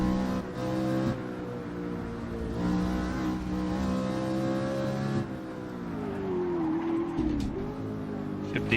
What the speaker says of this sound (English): Rev it out again.